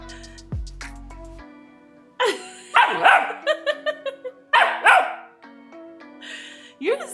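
A dog barks at a camera and its microphone in a home on a snow day: several loud, close bursts of barking come in clusters, with a voice speaking between them.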